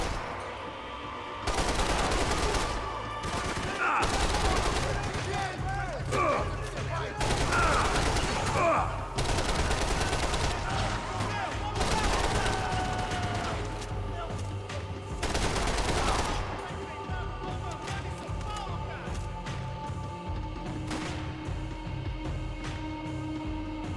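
Repeated bursts of loud gunfire with heavy recoil in the video game Max Payne 3, sharp rapid volleys and single shots over about twenty seconds, close and dense, with game music and ambience underneath.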